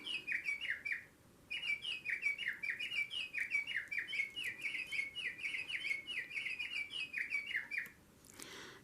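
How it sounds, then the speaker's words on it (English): A bird clock plays a recorded songbird call, a bright repeated chirping phrase that runs almost continuously with one short break, faint and thin over a hissy background, no voices. "Here's my bird clock"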